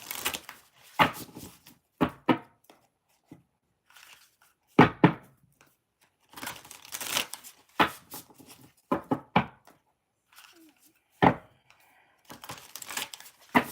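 Tarot cards being shuffled up close, with irregular bursts of riffling, crinkling and soft slaps separated by quiet gaps, recorded indoors without talk.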